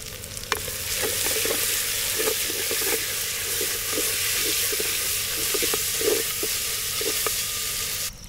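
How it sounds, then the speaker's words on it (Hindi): Green chilies sizzle while frying in a pan outdoors in a jungle, a steady close crackling hiss dotted with sharper pops and spits, with no talking. "डालेंगे उसमें ग्रीन चिल्ली"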